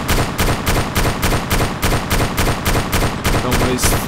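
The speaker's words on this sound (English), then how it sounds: "Shoot it down, Wait. To the right, shoot it down." Automatic gunfire fired at a helicopter in the video game Arma 2 rattles in rapid, evenly spaced bursts, loud and close, continuing nearly nonstop.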